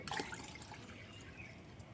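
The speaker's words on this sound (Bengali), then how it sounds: "তাহলে আমি হাফ জল ওই দিকে ফেলে দিলাম এর সাথে মিশিয়ে দেবো" Water being poured into a one-litre mug, a brief splashing burst at the start followed by a softer, faint trickling and dripping, close by with no talking.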